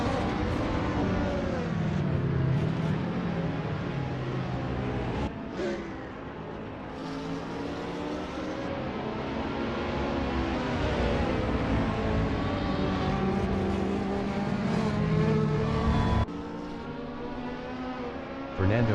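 A Ferrari 458 GT race car engine in Assetto Corsa howls continuously, rising and falling through the revs with gear shifts. A commentator's voice runs over it the whole time.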